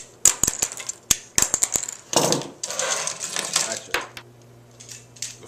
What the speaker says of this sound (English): Cut the 5 tabs and receptacles.